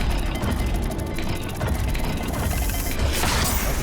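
Rapid mechanical clicking and ratcheting of a dial lock being turned in Hogwarts Legacy, a steady close-up series of gear-like ticks with a brief scrape near the end.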